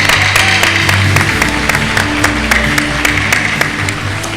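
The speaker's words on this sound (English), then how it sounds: "Let's give them all another huge round of applause." Audience applause fills a conference lunch program hall, with steady clapping from a large crowd holding for several seconds, close and dense with a low hum beneath.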